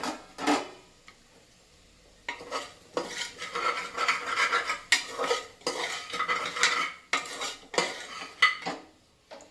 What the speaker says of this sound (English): Don't forget to keep stirring